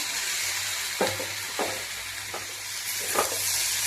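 Banana flower pieces coated in turmeric and oil fry in hot oil with a steady, close hiss, punctuated by a few soft clicks and stirring scrapes.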